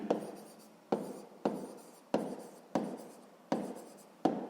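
Pen strokes writing out a sixth-grade maths exercise by hand, sharp scratchy strokes repeating roughly every second in a steady rhythm, close and alone.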